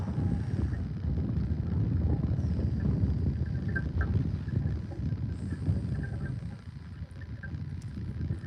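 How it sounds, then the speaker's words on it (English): Steady low wind rumble buffets the microphone outdoors while fishing, continuous and fairly loud, with faint ambient noise above it. "Bit windy out here."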